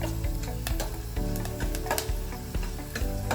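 Almonds roast in a pan for jaggery rice kheer, a close, steady sizzle punctuated by regular scraping and tapping of the stirring spoon, with no talking.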